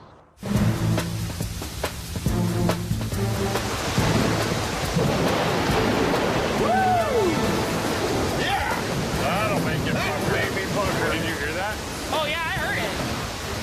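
Heavy rain pouring down steadily as a dense, loud wash, with deep rumbles of thunder and other sounds mixed in.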